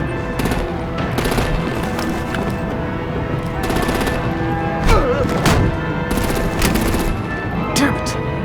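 Rapid bursts of automatic gunfire rattle through a loud action scene in Batman: The Enemy Within, with thuds and impacts mixed into a dense, continuous din and occasional voices underneath.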